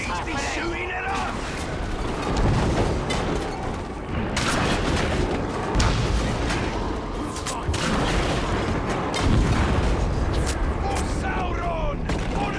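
Battle din from the video game Shadow of War at Cirith Ungol: continuous loud gunfire-like crackling and deep booming explosions throughout, with shouted voices mixed into the chaos.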